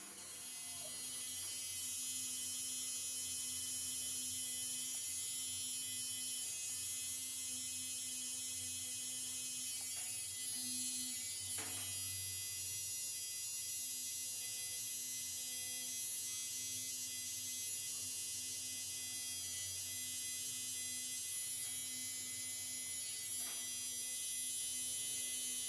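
A coil tattoo machine buzzes continuously at a steady pitch with a faint electrical hum, quiet and unbroken for the full length, no speech.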